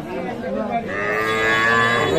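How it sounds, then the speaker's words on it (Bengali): A cow moos loudly and close by at a cattle market, one long drawn-out low call rising in pitch. "গাভী।"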